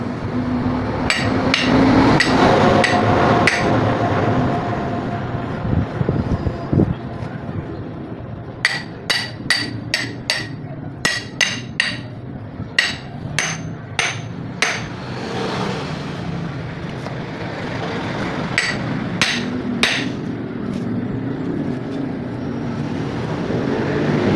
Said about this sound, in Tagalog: maso ang ating maraming palo ang ating gagawin dito para tanggal natin siya